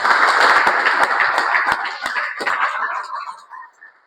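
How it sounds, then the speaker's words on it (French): An audience applauds a man with a dense burst of hand clapping that stays loud and steady, then thins out and fades to a few scattered claps at the end. "Voudriez-vous bien applaudir pour cet homme?"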